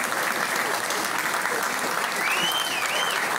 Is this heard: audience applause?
yes